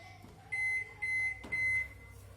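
A microwave oven on high power cooking a mug cake, with a steady low hum under three loud electronic beeps spaced about half a second apart, each sustained briefly.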